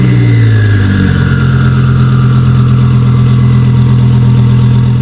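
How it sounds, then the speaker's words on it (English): A car fitted with a Sheepey twin-turbo kit idles right after its first start. It gives a loud, close, steady drone with faint turbo whir, holding even throughout with no talking. "it sounds like a little jet just starting up with the little turbo spool just kind of idling in the background"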